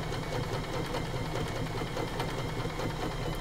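A Janome sewing machine sews a straight stitch in one steady, continuous whirring run of rapid needle strokes, close and even in volume, with no talking.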